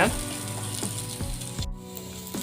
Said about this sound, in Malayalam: ഉള്ളി മൊരിഞ്ഞ് വന്നിട്ടുണ്ട്